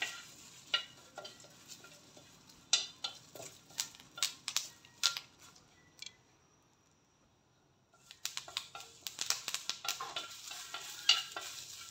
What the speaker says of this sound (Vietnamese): Tiếp đến mình cho cái lá cà ri này vô trong